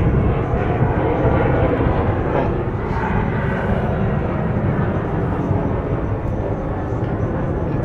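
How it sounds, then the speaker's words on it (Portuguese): A steady, heavy roar of an airplane passing overhead fills the whole stretch, loud and broadband with no pauses. "Passa um avião bem agora."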